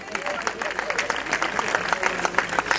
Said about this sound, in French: qu'on applaudit un peu plus fort que ça